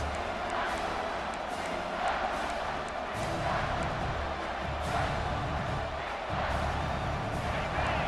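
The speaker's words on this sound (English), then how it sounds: "And the crowd coming to life here, trying to help this defense down in the red zone." A stadium crowd in EA Sports College Football 26 roars steadily during a red-zone defensive stand, a dense, continuous wash of cheering with some swells and thumps, and a commentator speaks over it.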